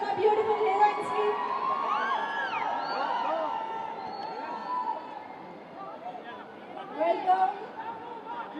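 A large crowd in a Hyderabad mall cheers for film heroines on stage, a dense roar of shouting, whoops and chatter with excited high-pitched voices and a swell of cheering near the end.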